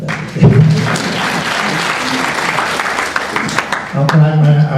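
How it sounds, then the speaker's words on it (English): Audience applause at a Tea Party candidate debate in Danville, a steady burst of clapping from the crowd that is sustained for several seconds while a voice speaks over it. "You can clap for that."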